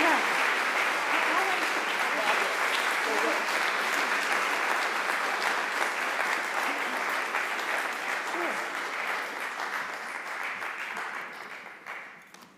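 Audience applause fills a talk venue, a dense steady wash of many hands clapping that holds strongly for several seconds before tapering off at the end.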